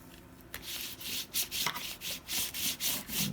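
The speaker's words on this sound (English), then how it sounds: "Take your bone folder and give it a good press." A bone folder rubs firmly back and forth over glued paper on a junk journal page, giving a rapid, rhythmic series of close scraping strokes, about a dozen in quick succession.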